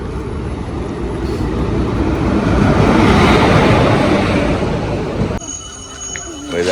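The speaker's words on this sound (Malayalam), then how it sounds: "ട്രെയിൻ ഇങ്ങനെ വരുന്നുണ്ട്." A train pulls into a station platform on a family outing, a loud broad rumble and rushing swell that builds to a peak mid-way, then drops sharply to quieter hiss and squealing tones near the end.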